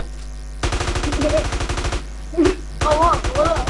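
Rapid automatic gunfire in the GTA video game rattles in a steady, fast stream of shots, broken by a brief pause, with excited voices shouting over it.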